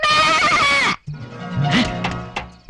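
A loud goat bleat with a wavering harmonic tone lasts nearly a second, then a lower, busier bleating and scuffling follows at lower volume, with no talk.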